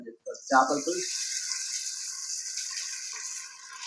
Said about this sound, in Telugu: ఇప్పుడు మనం దీంట్లో కొన్ని వాటర్ వేస్తున్నాను